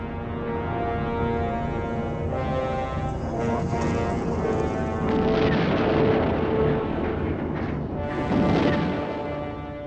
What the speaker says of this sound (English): Throughout Afghanistan, Soviet aircraft were now bombing indiscriminately.